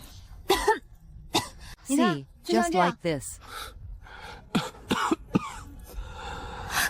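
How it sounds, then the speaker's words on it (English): Several weak, breathy, deliberately faked coughs in short bursts, mixed with a person speaking briefly between them, close to the listener. "Keep coughing like that from now on."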